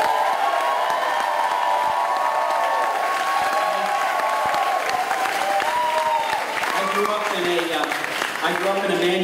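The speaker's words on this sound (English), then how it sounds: "let's give a big round of applause, all of us," A crowd at a Labor Day political speech in Buena Vista, 2012, bursts into sustained applause and cheering, the clapping loud and continuous, with whoops and voices calling out over it.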